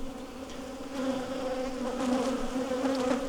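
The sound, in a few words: honey bees buzzing at open hive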